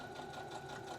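A sewing machine runs steadily while stitching a seam on a sleeveless wrap top, a close, even mechanical whir with quick repeating needle pulses and no talking.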